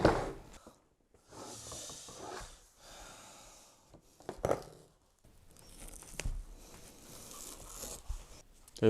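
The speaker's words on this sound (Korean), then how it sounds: "이런 식으로 일일이 안쪽에서 벗겨내서 이 부직포를 완전히 벗겨 주셔야 됩니다" Non-woven fabric lining peeled by hand off the inside of an old car's door panel, giving irregular ripping and scratchy tearing bursts with quiet pauses between them.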